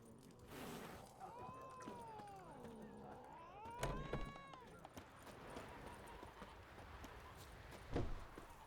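Faint clip-clop of Roach, Geralt's horse, in The Witcher 3, with hoofbeats trotting quietly under background music and occasional voices in a rural village setting.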